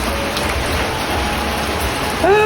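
Steady rain falling, a continuous close hiss of drops with no breaks.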